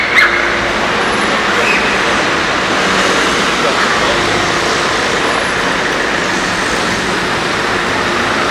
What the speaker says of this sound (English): I could just sit here all day and watch the cars go by here.